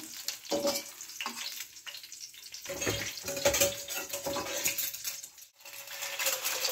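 Duck eggs, topped with chili and salt, fry gently in a pan with a steady crackling sizzle and occasional clinks and stirring, close and fairly quiet, with no talking.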